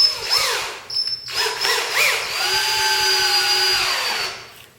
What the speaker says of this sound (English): You hear a difference in the drill there